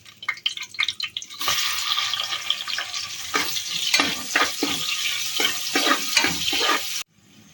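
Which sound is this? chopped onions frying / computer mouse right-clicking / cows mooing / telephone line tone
chopped onions frying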